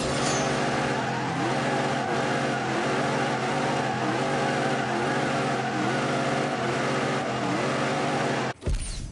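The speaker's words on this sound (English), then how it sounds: "No, that was just a celebratory burnout." A rebuilt Dodge Demon doing a burnout in The Grand Tour video game, its engine held at a steady high droning rev for several seconds before cutting off abruptly near the end.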